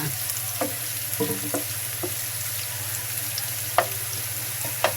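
Onions frying in a pan for a coconut prawn dish, a steady broadband sizzle with occasional soft stirring clicks and scrapes throughout, close and moderately loud, no voices.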